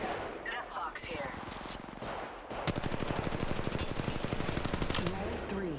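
Rapid automatic gunfire in Apex Legends Mobile, with sustained bursts of fast regular shots that grow denser and louder partway through, heard amid other game sounds.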